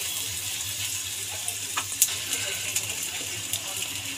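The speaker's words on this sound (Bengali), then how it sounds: "গরম তেলের মধ্যে এবার আমি হিং দিয়ে দিলাম।" Hot oil sizzles steadily with a bright hiss, broken by a few small sharp pops and ticks, close up and without talking.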